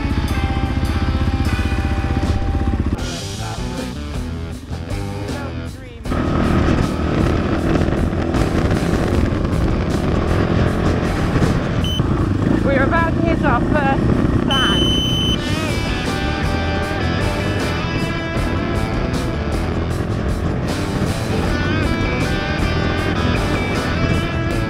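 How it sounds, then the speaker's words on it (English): Engines of rally racing vehicles gathering on a beach before the Morocco Desert Challenge roar loudly and continuously, with motorcycle-like revving and droning that dips briefly before surging again, all close and dense. "Racing vehicles are currently gathering on the beach."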